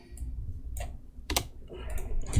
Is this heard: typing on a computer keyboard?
yes